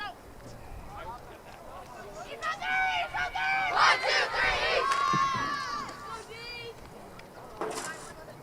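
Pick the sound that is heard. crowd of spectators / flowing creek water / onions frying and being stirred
crowd of spectators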